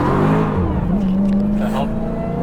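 A 2022 Dodge Charger SRT Hellcat Jailbreak on all-season tires accelerates hard, its engine note rising steadily and loud from inside the cabin, with a voice speaking briefly over it.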